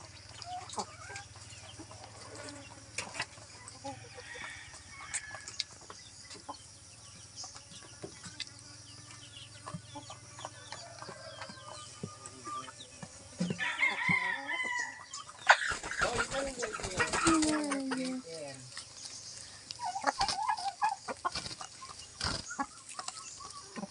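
Chickens cluck and a rooster calls in a backyard where fowl are being fed, the sounds scattered and moderate in level, with a louder burst of flapping or clucking midway and faint talk in the background.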